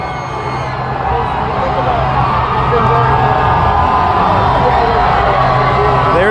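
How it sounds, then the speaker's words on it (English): A huge crowd at the New England Patriots Super Bowl LIII victory parade chants GOAT and cheers in a loud, continuous roar that swells slightly toward the end. "Oh, we have a goat chant."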